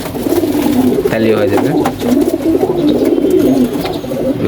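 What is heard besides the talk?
pigeons cooing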